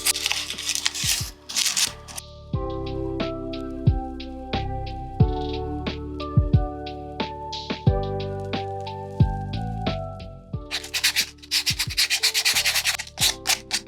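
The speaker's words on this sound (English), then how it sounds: "Again, I'm sanding, adding gesso, sanding again, adding another layer of gesso" Sandpaper rubbing over a gesso-coated plant pot, close and loud, in repeated back-and-forth strokes with short pauses between bursts and no talking.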